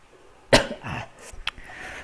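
A single sharp, close cough bursts out, followed by a softer throat sound and a brief second cough-like burst during an online lecture, with no talking over it.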